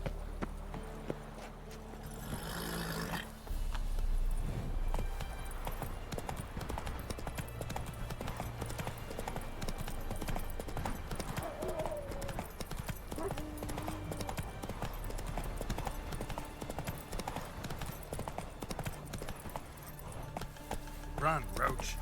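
Hooves of the horse Roach galloping in The Witcher 3, a quick, steady clip-clop rhythm running throughout under game ambience and a voice speaking.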